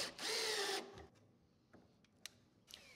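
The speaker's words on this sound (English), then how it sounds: "using a 3/8 inch drill bit and a drill" A power drill with a 3/8-inch bit whirs steadily for under a second driving lag screws into posts, then stops, followed by faint clicks and small knocks of work nearby.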